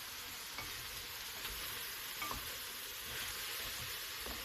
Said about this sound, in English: going to be adding in the chopped garlic, onions, and shallots